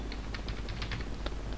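Soft, rapid keystrokes as code is typed on a computer keyboard, a quick irregular patter of taps over a steady low hum.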